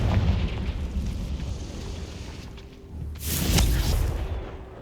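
A Confringo blasting spell bursts in Hogwarts Legacy as a sharp, bright explosion crackling over a steady low rumble, loud and close, with smaller pops before it.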